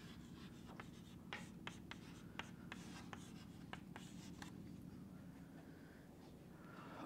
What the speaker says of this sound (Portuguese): Então, escrever essa palavra custódia aqui.